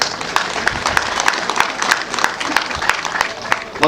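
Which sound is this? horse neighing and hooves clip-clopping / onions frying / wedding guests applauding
wedding guests applauding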